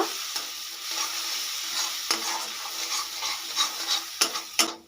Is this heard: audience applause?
no